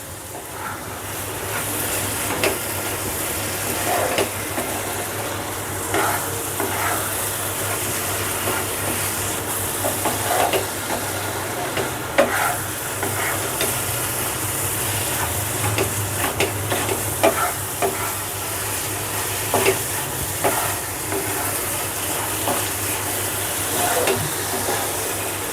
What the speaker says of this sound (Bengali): এটিকে কিন্তু কন্টিনিউয়াস এরকমভাবে নেড়ে যেতে হবে